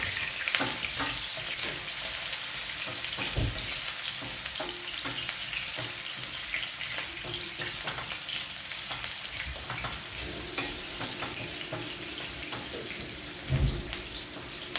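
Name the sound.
onions frying in a pan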